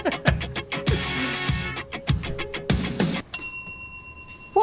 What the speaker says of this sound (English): I want you to ding your bell when you hear anything you might deem inappropriate